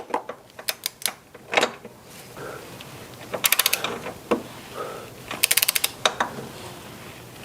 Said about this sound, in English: So I've got my torque wrench ready to go.